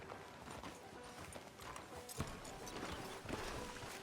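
Horse hooves clip-clopping at a walking pace in the Red Dead Redemption 2 video game, a steady near rhythm over background game ambience, with a few sharper hoof strikes standing out.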